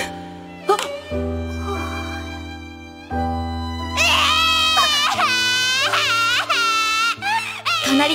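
In an anime scene, a child bursts into loud, wailing cries after a few held piano notes, sobbing in rising and falling bursts close up.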